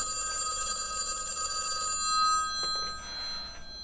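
A telephone bell rings with steady bright tones for about two seconds, then stops, leaving faint room noise and a few soft clicks.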